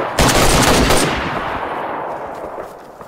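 Gunfire in the video game DayZ: a loud burst of rapid, close shots at the start, followed by a long decaying echo that rolls away into the distance.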